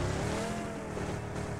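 A car speeding along in the mobile battle royale game BGMI, its engine droning steadily and loudly throughout with no break, with faint hints of tire noise.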